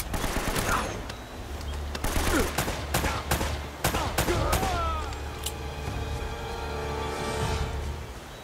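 Automatic gunfire from a firefight in Uncharted: Drake's Fortune, with rapid bursts and single shots cracking close and loud over roughly eight seconds, a voice briefly heard amid the shooting.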